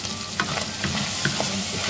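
Tomatoes sauté in a pan for a Filipino eggplant, string bean and mushroom dish, a steady close sizzle broken by a few scraping stirs of a utensil, with no voices.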